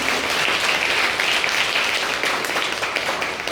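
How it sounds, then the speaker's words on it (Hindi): Audience applause at a school NCC event for World AIDS Day, dense steady clapping from a crowd that fills the whole few seconds with little speech. "इसलिए आप लोगों के लिए तालियां बज सकती हैं।"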